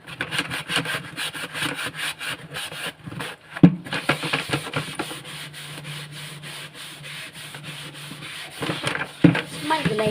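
An iron kadai is scrubbed with a Vim dishwashing bar, giving close, steady rasping strokes of gritty rubbing throughout, with a few brief louder scrapes.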